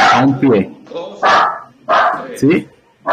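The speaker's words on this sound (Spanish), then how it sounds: "Perdonen por el perro." A dog barks several times in short yaps close to the microphone, overlapping a woman's speech during an indoor training session explanation.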